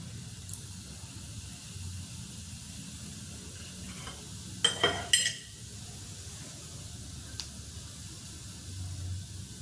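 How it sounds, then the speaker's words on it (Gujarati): Cumin seeds hit hot oil while cooking Kathiyawadi brinjal oro, giving a faint steady sizzle with a few brief clinks and scrapes of stirring around the middle. "હવે આપણે એમાં જીરું ઉમેરશું"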